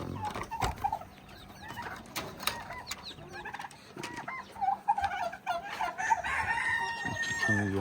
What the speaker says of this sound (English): These are chickens.